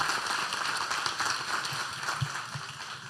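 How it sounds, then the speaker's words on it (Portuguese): An audience at an indoor gathering applauds in a dense, continuous wash of clapping that holds steady for the whole stretch, with faint voices mixed in. "uma salva de palmas para o Aguinaldo"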